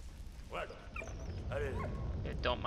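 A dog in the World War I game Valiant Hearts: The Great War gives a few short barks and yips, close and clear, over game sounds and someone talking.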